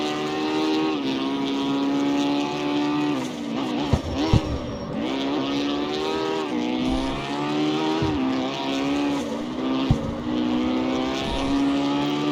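A small street car's engine drones and revs through gear changes in the racing game CarX Street, a steady, close whine that rises and falls as the car accelerates and shifts, with a few brief thumps along the way.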